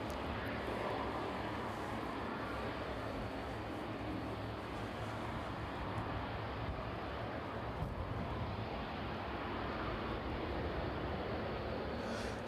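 Ilyushin Il-76 jet engines run at East Midlands Airport, a steady broad roar heard from a distance outdoors, even and unbroken with some wind against the microphone.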